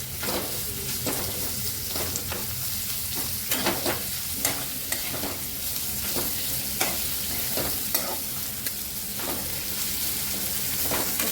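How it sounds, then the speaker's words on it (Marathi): Egg fried rice with onion is fried over a high flame, a constant loud sizzle with regular sharp scrapes of a spatula stirring the pan, close up and without any voices. "फास्ट गॅसवरतीच आपल्याला मी फ्राय करायचं आहे सगळं"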